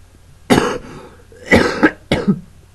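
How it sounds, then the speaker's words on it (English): Three loud, close coughs, one at a time, the later two doubled into quick pairs, with quiet gaps between them. "make me cough for some reason."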